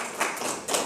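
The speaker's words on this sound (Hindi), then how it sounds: "हाँ, बजाओ ताली, वाह" Audience clapping at a New Year celebration program at a centre hall in Panipat, with a few close bursts of claps over roughly a second, no voices.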